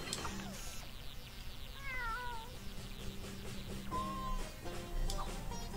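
Cartoon cat meowing in the LittleBigPlanet video game on PS3, several short rising and falling meows spread over steady game background noise.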